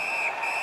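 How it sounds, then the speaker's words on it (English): A referee's whistle in the NHL 19 hockey video game gives one sustained shrill blast, loud and close, lasting under a second without talk. "Holds on and gets that whistle."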